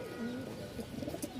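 A male Rajshahi Giribaz flying pigeon coos softly at close range in a brief, faint burst of low, rolling calls, with no talk over it.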